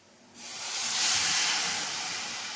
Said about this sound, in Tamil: இப்போ கொஞ்சம் தண்ணி சேர்த்துக்கலாம்.